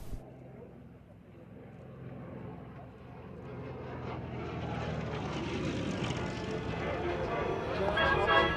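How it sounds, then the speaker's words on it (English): A historical MS-406 French fighter plane in an airshow flying display at Florennes in 2012, its propeller engine droning and slowly growing louder as it passes, heard alone from a distance over crowd-level background noise. "There were also some historical aircraft in the flying display, like this MS-406."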